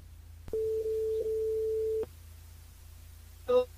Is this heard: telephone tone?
yes